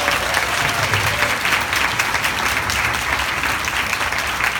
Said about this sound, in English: Let's just give these ladies a round of applause.